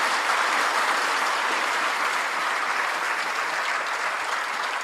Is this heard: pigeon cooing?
no